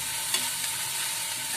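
Fenugreek leaves stirred and cooking in a pan over high heat for a Malvani-style vegetable dish, giving a steady close sizzle with a couple of soft scraping stirs and no talk.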